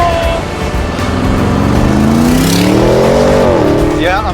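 An Audi launches hard in sport mode at Sebring International Raceway, its engine note climbing loudly and steadily as it accelerates, with voices in the background.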